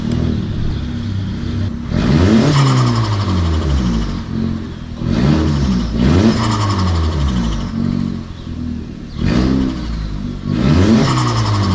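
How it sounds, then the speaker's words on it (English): A Polaris RZR off-road vehicle engine revs hard in repeated bursts, rising and falling in pitch several times, loud and close with no talking. "A little distraction because Cam wanted to hear the car, but we're right back to work."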